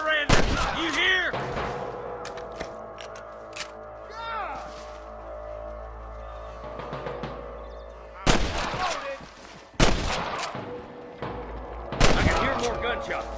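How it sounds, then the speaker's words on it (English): Gunshots in a Western shootout from the Red Dead Redemption video game, loud sharp cracks coming in separate bursts between quieter stretches of game ambience and tonal sound. "More gunshots."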